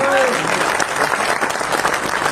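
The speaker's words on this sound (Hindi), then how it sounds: "आपकी तालियों से इस खंडे से हाथ में गर्माहट आ गई" Applause from the audience at a poetry gathering fills the room as steady, dense clapping under a voice speaking throughout.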